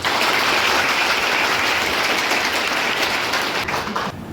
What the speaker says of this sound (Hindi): सबसे लिए आप नेहरू युवा केंद्र के लिए जोरदार तालियों से।